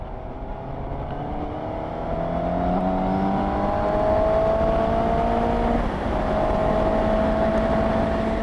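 A 2020 Suzuki GSX-S750 motorcycle accelerates hard, its engine note climbing steadily through the gears with a shift partway through, heard continuously and fairly loud without speech.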